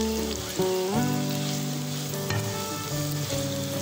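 Chunks of tapioca coated with turmeric and coriander powder are stir-fried in a pan. A loud, close sizzle rises and falls with stirring, while sustained tones hum in the background.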